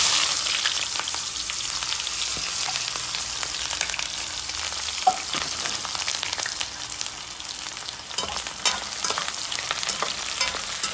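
Onion frying in hot oil in a pot for a Réunion-style shrimp and aubergine dish, a steady close crackling sizzle with occasional sharper pops and stirring clicks throughout.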